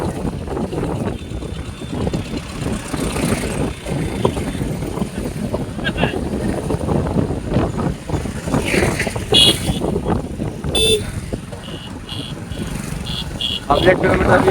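Busy highway traffic near a traffic junction on the way to the Loteshwar fair, with motorcycles and vehicles passing, heavy wind buffeting the microphone, and several short horn beeps over the steady road noise.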